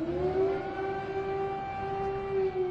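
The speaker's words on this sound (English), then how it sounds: "Air raid sirens blared across Kyiv on Thursday" A civil defense air raid siren in Kyiv holds a loud, steady wailing tone with rich harmonics, sounding continuously and alone over faint background noise.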